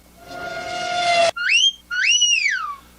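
A wolf whistle sound effect from an iPad soundboard: a race car tone cuts off abruptly, then two loud rising-falling whistles follow, the second longer, close and clear with no talking.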